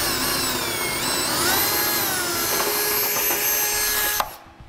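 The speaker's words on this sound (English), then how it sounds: "we're going to take a 17/32 drill bit and we're going to open our holes up to that size" A power drill fitted with a 17/32 bit bores out holes in a Curt trailer hitch receiver on a 2011 Hyundai Genesis, whining at a steady pitch as it cuts metal, then stopping abruptly.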